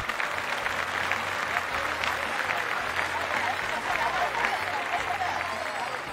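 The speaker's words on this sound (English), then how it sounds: "And now let's really give a huge round of applause" School audience applauds at a concert, a dense, steady crowd clapping that holds at an even level throughout, with faint voices mixed underneath.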